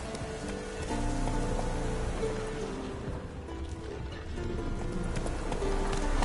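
Roach, a horse in The Witcher 3, gallops with a steady rhythmic clip-clop of hooves close up, mixed with a patter like rain and low game music, no talk.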